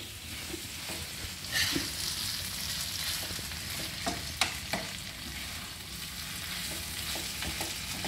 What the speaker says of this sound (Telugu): ఇట్లా మనము ఇది అడుగు అంటకుండా ఇట్లా చేసి మనం ఫ్రై చేస్తూ ఉండాలండి ఒక 5 మినిట్స్ ఇట్లా